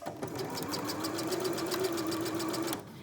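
A sewing machine with a twin needle stitches knit fabric in a fast, even, close run that lasts about three seconds and then stops.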